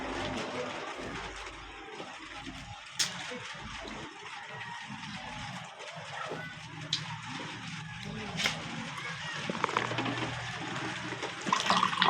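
Water running steadily in a continuous splashing rush, fairly close, with people talking intermittently over it.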